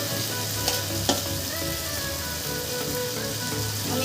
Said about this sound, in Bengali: এবারে আমি মশলাটা একটু সময় নিয়ে খুব ভালো করে কষিয়ে নেব।